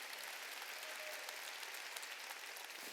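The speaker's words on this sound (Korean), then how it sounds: "깨달은 사람만 박수치라고" Dense applause from a large church congregation during a Wednesday worship service, steady and sustained throughout, with no voices standing out.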